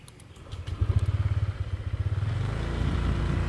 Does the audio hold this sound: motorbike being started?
yes